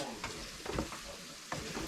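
Sucuk sausage sizzles as it fries in oil outdoors at a highland plateau, a steady crackling hiss with a few sharper pops, moderately close and without talk.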